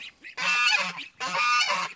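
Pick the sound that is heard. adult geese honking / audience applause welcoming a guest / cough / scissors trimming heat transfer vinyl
adult geese honking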